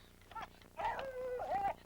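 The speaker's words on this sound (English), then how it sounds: "Shut up, dog!" A dog whimpers and whines in short, high, wavering cries, two longer drawn-out whines following a brief yelp, fairly faint and close in an otherwise quiet room.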